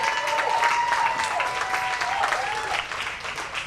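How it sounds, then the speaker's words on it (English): Audience at a comedy showcase applauding as a stand-up comic takes the stage, steady clapping with a few whoops and cheers above it, gradually thinning toward the end. "And keep that going for your next comic coming up the stage, Mr. Paul Christian."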